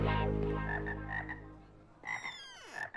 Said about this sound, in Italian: non ho ordinato rane vive